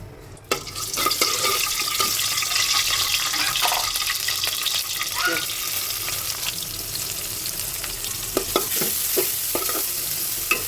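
Garlic, cloves, cardamom, cinnamon and bay leaves frying in plenty of oil with beef fat, a steady loud sizzle with occasional stirring clatter, close up and with no voices.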